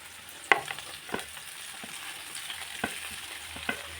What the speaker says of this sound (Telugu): కడాయిలో కొంచెం నూనె హీట్ అయిందండి. తర్వాత వెజిటేబుల్స్ మొత్తం వేసేసేయడమే.